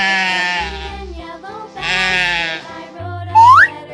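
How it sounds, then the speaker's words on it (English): A goat bleats twice in quavering, nasal cries, close and loud, followed by a brief rising whistle tone. "Goat. Goat."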